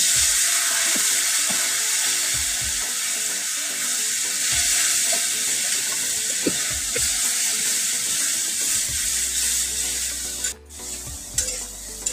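Water goes into a hot pan of Bengali egg curry (dim er tarkari) cooked with meat masala. A loud, steady hiss of sizzling fills the pan, with light stirring scrapes and a brief dip near the end.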